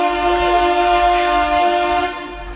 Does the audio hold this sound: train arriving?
yes